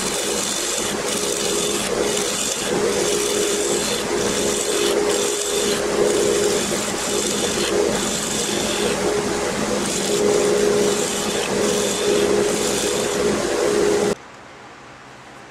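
Spalted pecan being shaped into a rounded hollow form on a lathe, a steady continuous cutting whir with a constant mid hum and scraping texture, loud and unbroken for about fourteen seconds before dropping off abruptly.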